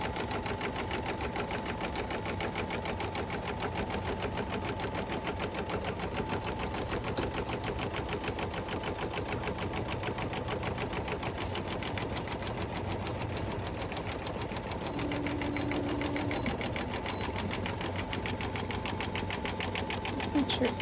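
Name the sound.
sewing machine stitching fabric for a quilted mug rug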